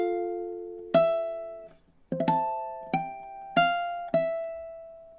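Ukulele plucking a sequence of ringing bell-like harmonics from a song, six separate chime-like notes spaced about half a second to a second apart, each sustaining and fading, close and clear with no voices.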